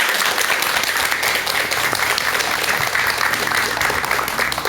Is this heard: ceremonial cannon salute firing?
no